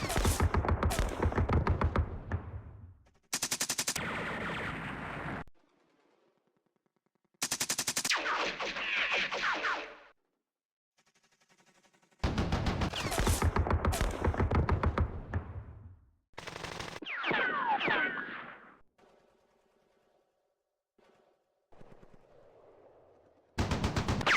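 Gunfire from the Campaign Series Vietnam war game: loud bursts of machine-gun fire and rapid shots come in separate clusters, each cut off by short silences.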